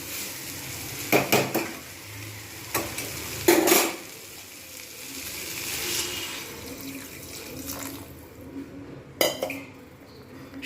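Room-temperature water goes into a vegetable paneer curry in a pan, a brief rushing splash and hiss amid clinks of utensils against the vessel, then quieter bubbling, close and unaccompanied by speech.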